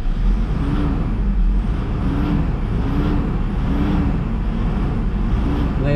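Knocking in a Toyota Fortuner engine, a steady loud metallic clatter repeating in an even rhythm for several seconds, close up and alone with no talk.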